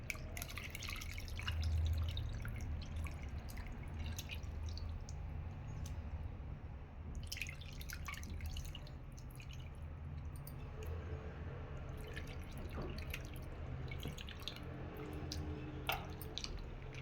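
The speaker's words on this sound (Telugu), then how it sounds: "చింతపండు గుజ్జు అయితే దీంట్లో పోసేస్తాను," Tamarind pulp poured into a pot of fish curry gives soft wet dripping and squishing sounds, close and low, steady over the whole stretch with no talking.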